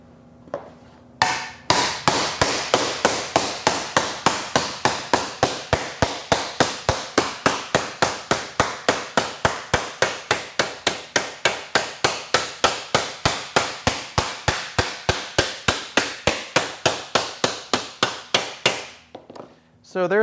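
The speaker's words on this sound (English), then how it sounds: "we just place the metal on top of the bag and work into the bag with the mallet" Mallet blows hammering sheet metal against a sandbag while shaping a motorcycle fuel tank panel, dozens of sharp, evenly spaced strikes in a steady fast rhythm lasting nearly twenty seconds, close and loud.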